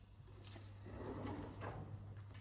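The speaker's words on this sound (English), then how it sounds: "Pull out drawer" A bedside table drawer at Raffles Singapore hotel slides open in a quiet room, a soft continuous rolling scrape lasting about two seconds over a low steady hum.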